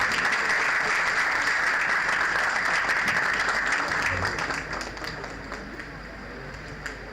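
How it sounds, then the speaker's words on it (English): A large audience applauds at the inauguration ceremony of an AI event as a memento goes to the chief guest. The clapping is dense and sustained, loud at first and easing off in its last seconds, with faint voices underneath. "Please give us a huge round of applause."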